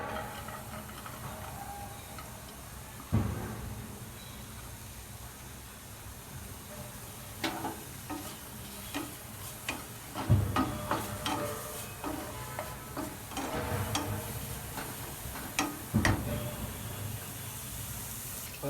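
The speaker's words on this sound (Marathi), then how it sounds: "कांदा असा थोडा लाल होऊ द्यायचा आणि मध्ये तेल टाकायचं थोडं आणि तेलात आहे ना चांगला असा कांदा आता फ्राय होऊ द्यायचा आहे" Chopped onion frying in oil in a kadhai for a leftover-rice dish, a soft steady sizzle with scattered louder scrapes and stirring clatters, close and alone without talk.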